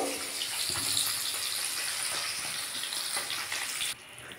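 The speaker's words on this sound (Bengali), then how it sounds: "এই মাছগুলো ভাজতে দিয়ে দিয়েছি" Chara pona fish pieces, four of them, frying in oil with a steady close hiss and crackle that runs throughout, then drops off sharply near the end, with no talk.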